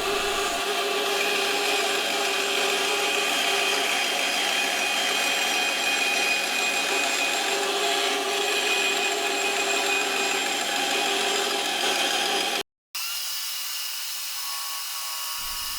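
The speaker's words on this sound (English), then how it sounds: "And take it to the bandsaw. I'm trying to cut as close to the line as I can here." A bandsaw cuts a wooden guitar template for an ES 335 build, a steady loud whine with tonal hum running about twelve seconds alone before an abrupt cut and a quieter continuing machine drone.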